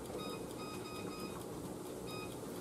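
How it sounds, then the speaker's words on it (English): Kitchen timer being set while cooking, a few faint, high electronic beeps in quick bursts over a quiet background of kitchen noise. "And I'll set the timer up here."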